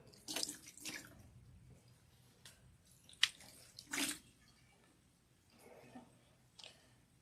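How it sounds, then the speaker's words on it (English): Water is poured and splashed over a head while washing hair, in a few irregular bursts and trickles, faint and close, with quiet pauses between pours. "Give me some water so I can also wash because I'm now coming in next."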